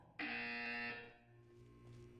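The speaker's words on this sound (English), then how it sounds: "When you hear the buzzer, look up at the ceiling." A loud, harsh electronic buzzer in Portal 2 sounds for about a second, then cuts off, leaving a faint low hum.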